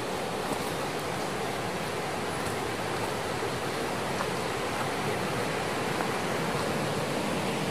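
Water in a mountain valley stream by a campsite, flowing steadily as a broad, even rush that holds at a constant moderate level throughout, with no voices.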